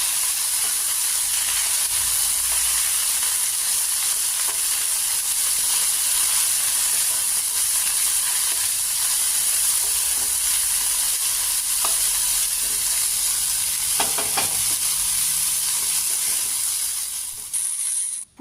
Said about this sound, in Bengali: রসুন দিচ্ছি পেঁয়াজ কাঁচামরিচ একটু ভাজতেছি